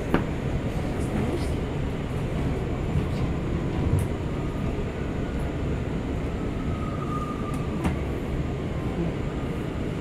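Inside a Queens-bound R179 J subway train on the move: a loud, steady rumble and rattle of the car on the tracks, with occasional faint squeals and clanks throughout.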